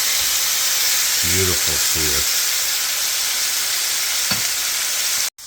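Meat sears in a 12-inch GLOBEHOME stainless steel frying pan just after being flipped, giving a loud, steady sizzle throughout, with a short spoken remark partway and a sharp clatter near the end.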